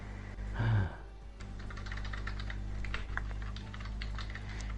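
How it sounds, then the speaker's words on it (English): Computer keyboard typing runs steadily as a run of quiet, rapid key clicks over a low background hum, with a brief louder sound near the start. "Are you typing in the Discord?"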